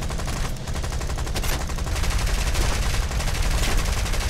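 Bomber gunner's machine guns firing in War Thunder, a dense, continuous rattle of rapid gunfire with heavy low rumble, loud and steady throughout.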